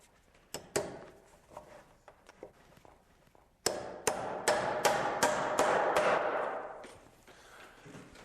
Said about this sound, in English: I'm going to nail my carriage to that 2x4.